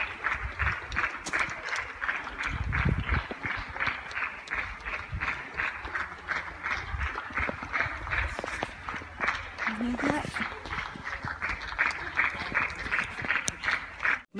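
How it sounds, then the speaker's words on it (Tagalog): A crowd claps steadily and densely throughout, dimly recorded in a darkened hall at some event, a continuous wash of applause with low thumps and background voices mixed in. "everybody's clapping!"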